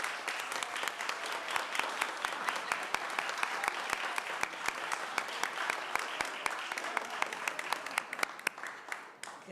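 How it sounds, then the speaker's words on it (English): An audience at a city council meeting applauds children, a moderately distant, sustained round of many hands clapping with sharper individual claps standing out, fading slightly toward the end. "let's give these kids a round of applause"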